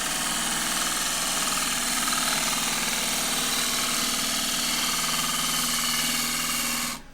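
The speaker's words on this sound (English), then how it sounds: "cutting the entry cut just to get past that area with the 3/8 spindle gouge" A wooden bowl turning on a lathe while a 3/8 spindle gouge takes an entry cut, a loud steady whirring drone with a rough cutting rasp throughout that stops abruptly at the end.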